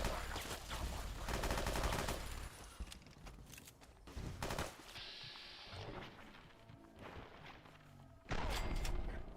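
Gunfire rattles in Fallout 3 / New Vegas, bursts of rapid shots at the start and end with scattered single shots and thuds between, loud and close.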